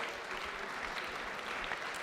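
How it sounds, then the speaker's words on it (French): An audience applauds at a podium ceremony of the French indoor championship in 2018, a steady wash of clapping from a crowd at middle distance, continuous for the whole stretch with no voices standing out. "Merci de les applaudir."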